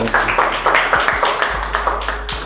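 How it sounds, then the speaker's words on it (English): A classroom of children claps for a classmate, a short round of brisk applause with distinct individual hand claps ringing out close by, with no talk over it. "can we give him a big round of applause?"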